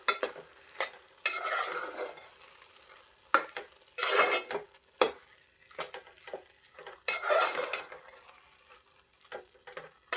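Carrot halwa being stirred in a pan after milk masala powder is added, with repeated scraping and clinking of a spoon against the vessel in irregular bursts, close and fairly loud, no talking.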